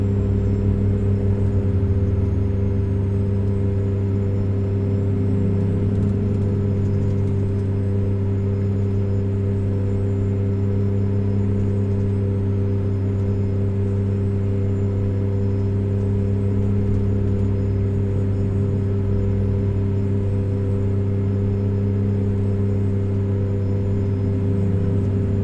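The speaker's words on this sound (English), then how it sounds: "Being quiet, guys, so you can kind of hear the truck," A steady, droning Freightliner FLD 120 truck engine in American Truck Simulator hums continuously, a low constant rumble with faint cabin noise and no talking, unchanging throughout.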